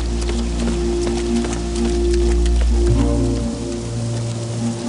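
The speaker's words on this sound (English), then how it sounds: "It's not rain. It's water from last night's flood." Cartoon sewer water drips and splashes steadily, a dense patter of droplets like rain over a low sustained tonal drone, with no voices.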